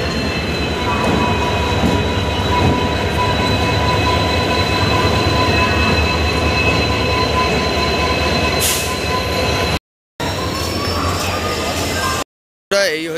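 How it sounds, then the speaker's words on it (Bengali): The Howrah–Digha Tamralipta Express pulling into a station platform, a loud, sustained rumble of wheels with high metallic squeals and clatter, briefly cut off twice near the end. "12857 হাওড়া দীঘা তাম্রলিপ্ত এক্সপ্রেস 20 নম্বর প্ল্যাটফর্মে ঢুকছে।"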